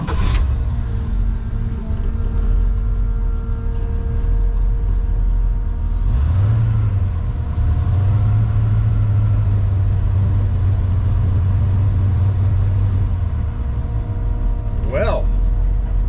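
A 1956 Willys Station Wagon engine runs steadily and loud throughout, a low droning idle that shifts pitch around the middle, with shop noise over it.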